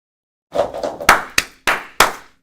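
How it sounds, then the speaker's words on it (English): A few hand claps ring out close by, first soft and quick, then four louder, spaced claps with short echoes, from an audience at a live competition finale. "Everybody clap their hands."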